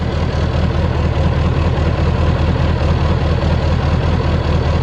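A Volvo FM9 truck's 400 hp V8 diesel idles close up, a loud, deep and steady rumble with an even low throb that never changes, heard alone with no voices.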